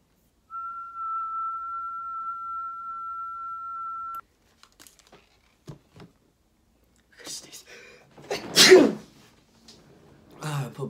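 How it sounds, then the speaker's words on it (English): A person whistles one steady, pure sustained note close into a microphone for a few seconds, then the tone stops and a loud sneeze and scattered breathy noises follow. "So I'm gonna whistle into it."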